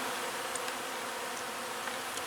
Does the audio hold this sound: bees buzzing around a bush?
yes